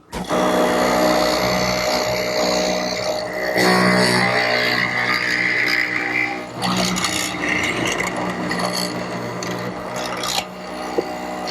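A hollow chisel mortiser cuts a mortise into a wooden post for a quilt rack. A loud, continuous grinding and rasping drone holds almost without pause, with the pitch shifting as the chisel bores down and withdraws.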